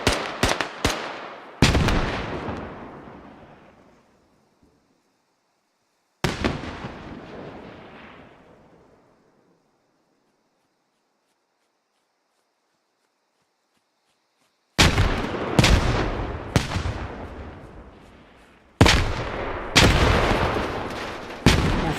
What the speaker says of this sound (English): Shusha throwing nades into the cap.